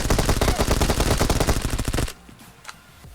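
Rapid automatic Vector fire in PUBG at Pochinki, a dense, loud stream of shots for about two seconds before cutting off to quiet with a single faint click.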